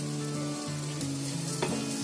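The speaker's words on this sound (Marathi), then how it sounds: "आता तव्यामध्ये थोडा घी टाकलाय. त्याच्यामध्ये आपल्याला जे आपण आवडीने ड्रायफ्रूट टाकणार ना ते आपण त्याच्यामध्ये टाकून घ्यायचे." Dry fruits heating in ghee in a pan make a steady, close sizzle with soft stirring scrapes running through it, no voices.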